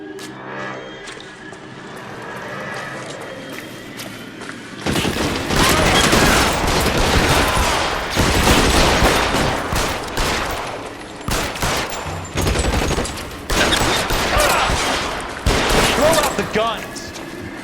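Gunfire in the video game L.A. Noire breaks out after a tense spoken exchange, becoming a loud, sustained fusillade of rapid shots with brief gaps, while voices shout over it.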